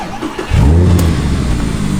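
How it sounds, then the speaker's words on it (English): An Audi R8 V10 supercar engine barks into a loud, close rev after a brief quiet moment, then holds a deep, rumbling roar to the end. "This is an Audi R8 V10."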